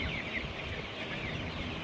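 Chicks of a high egg-laying breed, a batch of about 450, cheep and peep as a steady high-pitched chorus from a crowded flock with no talking.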